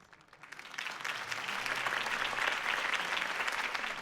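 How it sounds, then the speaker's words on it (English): Crowd applause after a campaign speech in the Batman Telltale Series video game, a steady wash of many hands clapping that swells and holds loud for the full stretch, with no talking over it. "If only Mr. Wayne, my campaign's largest backer, could have heard that applause"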